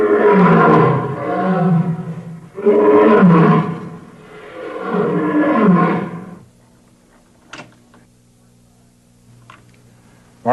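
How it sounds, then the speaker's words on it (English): A male lion roars three times in a row, each a long, loud, grunting bellow played back from a portable tape recorder, then a quiet pause with a low steady hum and a couple of faint clicks. "First, I recorded the roar of a male lion in one territory."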